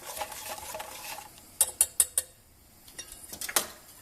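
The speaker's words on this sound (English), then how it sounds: "whisk this, add a bit more, and whisk" Eggs and milk being whisked together while tempering custard for a mixed berry tart, quick metallic taps and scrapes of a whisk against a bowl, a short burst of sharp clinks mid-way, close and without talk.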